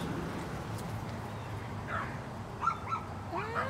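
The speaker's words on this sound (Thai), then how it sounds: "ยังเห่ายังเห่าอีก" Dog barking outdoors near a house garden where apples are picked, a few short yips and barks in the second half, faint and somewhat distant over low background noise.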